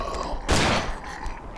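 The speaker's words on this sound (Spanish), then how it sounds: "Encima que estoy gastando munición, voy y fallo tiros." Gunfire in the Cry of Fear horror video game: a single loud, punchy gunshot with a short ringing tail, then quieter room ambience, no voices.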